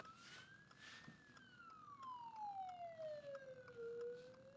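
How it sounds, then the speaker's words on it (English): Ambulance siren wailing in a slow rising and falling sweep, fairly close and steady, heard on the road over a low background rumble of traffic. "there's an ambulance here on my ass"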